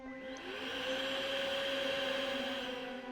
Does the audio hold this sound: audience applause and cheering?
no